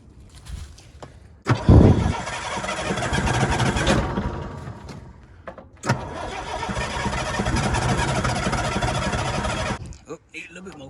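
A Bobcat 743 skid steer with a hydraulic fluid leak runs close by, its engine surging loud for two long stretches as the throttle is opened, then dropping away between them, with brief speech around it.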